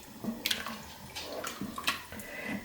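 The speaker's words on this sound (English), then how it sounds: "Give it a good stir." Stock from a cube mixed with 500 ml of water is stirred inside a Cosori pressure cooker, giving short, close splashing and sloshing sounds with a few light clinks.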